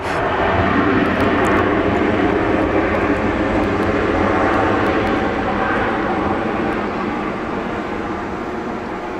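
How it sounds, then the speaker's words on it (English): A Cathay Pacific Boeing 747 departs Brisbane airport at night, its jet engines making a loud, steady roar that fills the whole stretch and fades slightly toward the end, with no voices over it. "Are you guys catching the departure of the 747 tonight?"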